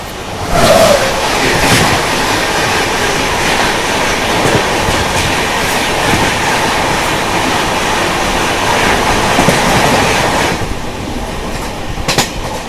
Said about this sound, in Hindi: सामने से आ रही है मुंबई राजधानी एक्सप्रेस।